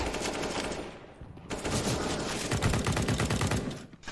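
Rapid automatic gunfire from a weapon in CS:GO rattles in quick bursts, loud and close. A short pause breaks the firing before a longer volley that runs almost to the end.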